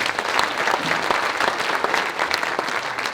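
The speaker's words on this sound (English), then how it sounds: "let's give them a round of applause anyway" Steady audience applause for EMS first responders at a gathering, a dense even wash of many hands clapping throughout, loud and continuous with no pauses.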